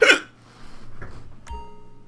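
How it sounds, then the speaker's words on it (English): A single sharp, loud hiccup from a man playing GTA V Online opens the moment, followed by quieter game ambience and a bright chime-like tone near the end. "I just got the hiccups"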